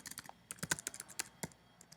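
Keys tapping on a computer keyboard while typing a web address, an irregular run of quick, close clicks with short pauses, and no voices.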